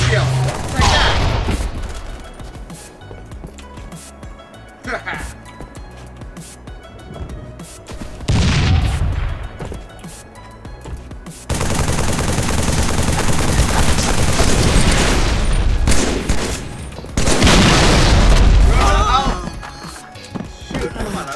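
Rocket launcher blasts and gunfire in a Halo match, with heavy booming explosions and bursts of rapid shots in loud waves; a voice talks at times over the game sounds.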